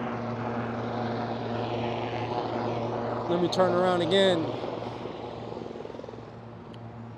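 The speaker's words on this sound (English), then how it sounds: "Great, we got a fucking helicopter." A helicopter passes overhead with a steady low rotor drone and engine hum throughout, growing briefly louder midway, while someone talks over it.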